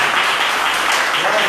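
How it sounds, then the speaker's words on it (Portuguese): Sustained applause from a church congregation at a family worship service, a dense even wash of clapping over a brief stretch. "Você pode colocar sua Bíblia de lado aí e aplaudir o Senhor, bem gostoso?"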